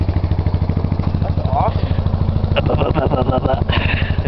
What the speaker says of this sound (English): I think we got ourselves a very good motor. Very good motor. Top of the line. Just started right up.